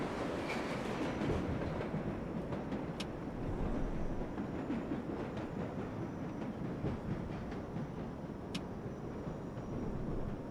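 A subway train runs in the World of Subways 4 driving game, the number 7 local bound for Main Street, Flushing: a steady, loud rumble of wheels and car noise throughout, with a couple of brief high metallic squeals.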